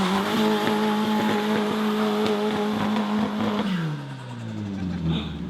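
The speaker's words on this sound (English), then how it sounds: "you need to do a skid. So I'm going to do a skid." A car doing a one-wheel-drive skid burnout, its engine held at a high, steady rev with tyres scrabbling under it before the revs drop and fade near the end. Loud and close throughout.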